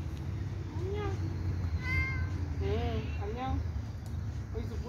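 Plump cat sitting on a bench outdoors in autumn Korea gives several short, fairly quiet meows, rising and falling, over low outdoor rumble and background hum.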